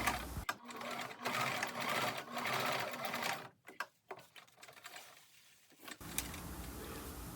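An electric sewing machine stitches elastic into the cuffs of a hoodie parka coat, running in a loud steady whir, pausing briefly with a few clicks, then starting up again.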